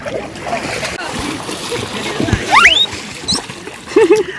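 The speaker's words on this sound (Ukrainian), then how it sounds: "А для дітей плескання воді це взагалі рай." Children splashing in a river, bursts of splashing water that peak near the middle and at the end, with children's voices and chatter around them.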